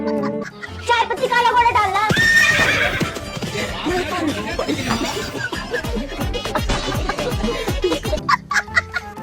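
A horse neighs loudly as a comic sound effect, a shrill whinny rising and falling over clip-clopping hooves, mixed with chicken clucks and other farmyard noise while voices talk throughout.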